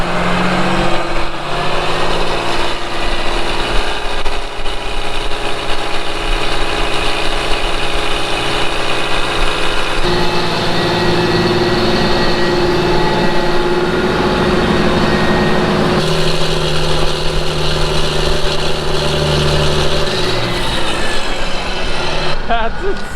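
A planter tractor tuned for 43 more horsepower, revving hard outdoors: a loud, gruff engine climbs and holds in pitch for long stretches, with people talking over it.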